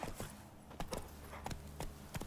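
Horse hooves clip-clopping in The Witcher 3: Wild Hunt, a quick uneven run of heavy hoofbeats in a galloping rhythm, close and moderately loud, with no speech.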